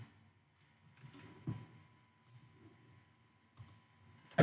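A computer mouse clicks to run code in a Python Dash tutorial, a handful of soft close clicks spaced irregularly over quiet room tone, with a sharper click at the very end and no speech.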